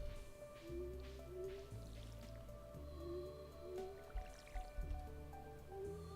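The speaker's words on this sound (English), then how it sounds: "Might as well water the crops that we have now before we go and talk to Pierre." Watering crops with a watering can in the farming video game Stardew Valley gives soft repeated splashing and dripping bursts over light game music, with no talking.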